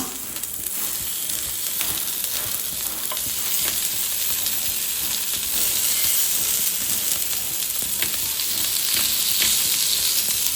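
Fish sizzles steadily in a pan of leftover oil where chicken was fried, with a continuous dense hiss and a scattering of small pops, close and even throughout.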